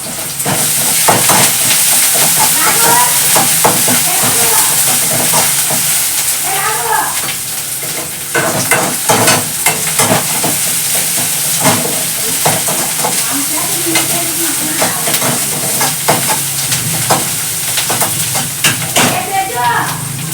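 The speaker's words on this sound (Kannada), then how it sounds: "ಆನಿಯನ್ ಚೆನ್ನಾಗಿ ಬೇಗ ಫ್ರೈ ಆಗುತ್ತೆ ಅಂತ" Onions frying with salt in a pan hiss loudly and steadily up close, broken by frequent sharp scrapes and taps of a stirring spoon, with a voice talking intermittently over the sizzle.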